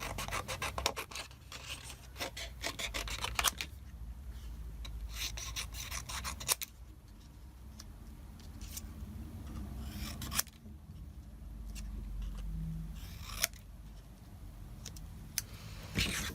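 Scissors cut a paper rectangle in rasping, scratchy strokes with a few sharp snips. The cutting is close and quiet, set against a low background rumble, and there is no speech.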